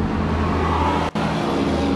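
A 1999 Toyota Tacoma 4x4 PreRunner regular-cab pickup with a manual transmission idles steadily, a low, even engine hum broken by one brief dropout partway through, with no talking.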